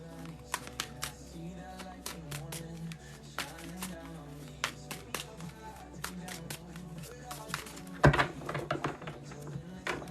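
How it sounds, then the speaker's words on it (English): Tarot cards being drawn and shuffled from a deck, soft repeated taps and shuffles close by, with a louder flurry near the end, over quiet background music. "Let me pull a couple more cards."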